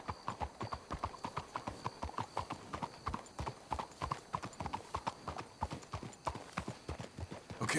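Horse hooves clip-clop in a quick, steady rhythm on a hard surface in the video game Red Dead Redemption 2, fairly faint, with a low ambient background.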